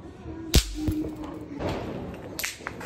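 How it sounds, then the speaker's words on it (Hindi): A party popper set off during a Diwali celebration, one sharp close pop followed by a softer thump and faint rustling, fairly quiet overall. "लेकिन युवान को खुश करने के लिए ये पॉपअप फोड़ रही है।"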